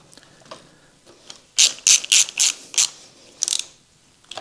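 Ratchet tightening the top pinch bolt on a Honda CB1300 motorcycle fork, a quick series of about seven sharp close clicking bursts after some faint handling noises.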